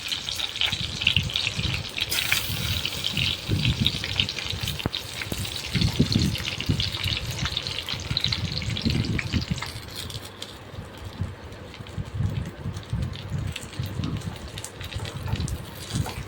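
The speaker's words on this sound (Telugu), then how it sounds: "వంకాయలన్నీ ఇప్పుడు దాంట్లో వేసుకొని ఫ్రై అవ్వాలి బాగా నూనెలో మగ్గనివ్వాలండి వంకాయలన్నీ" Stuffed brinjals fry in oil in a pan for a gutti vankaya curry made without onion or garlic, giving a steady, fairly loud hiss and bubbling that runs unbroken throughout with no voices.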